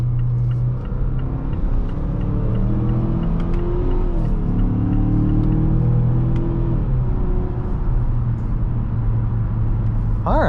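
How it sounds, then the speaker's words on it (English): A 2022 Mazda CX-5 with the 2.5 turbo engine revs in manual mode, heard from inside as a steady, loud rumble with rising and falling engine tones through several gear changes. "let you hear the engine sing a little bit."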